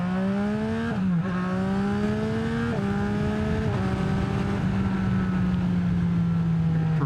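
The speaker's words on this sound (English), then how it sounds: "It provides that awesome SC PROJECT sound without the extreme loudness of the CRT exhaust" 2023 Yamaha XSR900 with an SC Project exhaust, a loud, sustained, buzzy engine note held near the mic with several quick rev blips stepping the pitch up and down.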